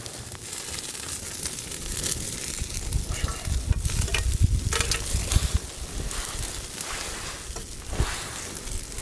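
Hot bacon fat poured into a campfire in snowy winter camping sizzles and crackles loudly and continuously at close range, with sharp pops and flares throughout.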